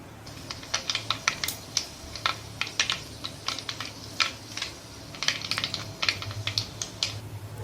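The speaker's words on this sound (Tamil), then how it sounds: "எண்ணெய் நல்லா காஞ்சதும் கடுகும் வெந்தயமும் ஆட் பண்ணிக்கோங்க" Mustard and fenugreek seeds sputtering in hot sesame oil in a clay pot, sharp irregular pops and crackles in quick clusters over a low steady sizzle, close and clear, no talking.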